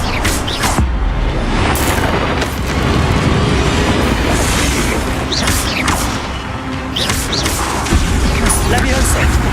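Expelliarmus disarming spell cast in the Hogwarts Legacy video game, a series of loud booming magical bursts and pops recurring every second or two over a busy, continuous battle din.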